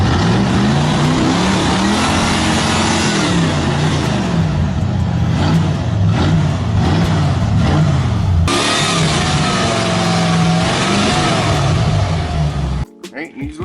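A 1978 Lincoln Mark V that sat unused for seven years, its engine cranking and catching, then running and revving loudly and roughly up close, with a clear stop near the end.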